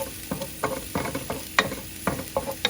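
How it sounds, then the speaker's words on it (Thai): Chopped garlic sautés in olive oil in a pan for a simple home spaghetti dinner, a steady close sizzle broken by repeated stirring scrapes in an uneven rhythm, with no talking. "ผัดเทียมให้หอมนะ"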